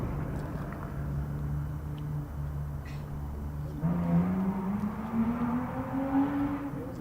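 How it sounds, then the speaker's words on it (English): A car passes quickly outside, heard faintly through an ambient microphone at a mixed pairs lawn bowls event, with a low engine drone rising in pitch as it goes by. "Someone going at quite some pace in a car outside."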